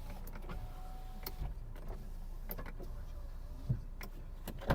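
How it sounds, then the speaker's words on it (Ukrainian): Electric power windows on a Volkswagen Touran run with a faint whirring motor hum inside the car, broken by several sharp clicks and clunks as the windows stop and switch. "по електриці, склопідйомники. Ліва сторона працює, електродзеркало працює, права сторона"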